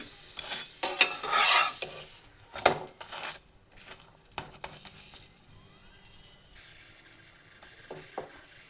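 A broccoli snack for a children's tiffin is pressed down and fried in a pan over low flame. Close, irregular scraping and tapping of a utensil sits over a soft sizzle, with no talk.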